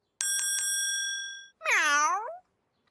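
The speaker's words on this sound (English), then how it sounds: "Meow. A cat." Cartoon cat meow follows a few bright bell-like dings, a single bending, whining call standing alone against silence.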